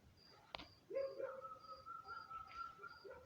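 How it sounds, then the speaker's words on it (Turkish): Faint dogs barking and yelping in the distance outdoors, a few short calls with a sharp click near the start, quiet overall. "Baya köpek bağırıyor şu an"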